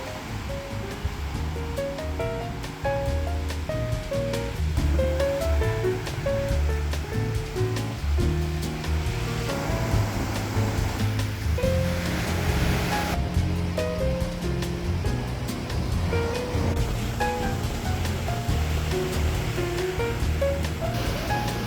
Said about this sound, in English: Bang Tao was amazing, even with a grey sky. The waves, the beach